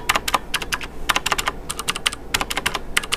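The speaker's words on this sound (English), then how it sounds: "you can hear a distinct sound difference when I hit the backspace" Fast typing on a Xarmor U9 Plus mechanical keyboard with Cherry Blue switches, crisp sharp clicky keystrokes in quick uneven bursts, close and clear with no talking.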